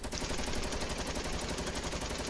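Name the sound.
gunfire from a video game (Fortnite)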